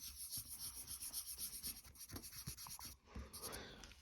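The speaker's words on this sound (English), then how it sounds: "Take my little sander and just sand around these rock chips." A small handheld sander works around rock chips on a vehicle's paint, giving a steady rubbing, rasping buzz with rhythmic strokes, close and alone, no talk.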